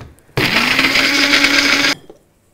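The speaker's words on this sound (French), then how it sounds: "On mixe." A kitchen blender whirs loud and close as it purees a sauce of lemon juice, water and salt, one steady burst of about a second and a half that starts and stops abruptly.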